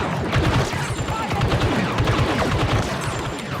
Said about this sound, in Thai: เป็นปืนแบบยิงทีละ3นัดซึ่งแรงมากๆ